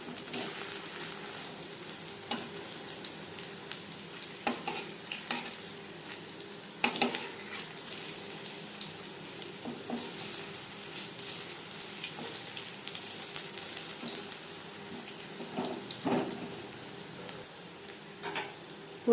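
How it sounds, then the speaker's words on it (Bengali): Curry pakora sizzling steadily in hot oil for a long stretch, with occasional louder crackles and scrapes as the pieces are turned over to the other side; no voices. "একটা সাইড ভাজা হয়ে গেলে অপর সাইডটা উল্টে দেব।"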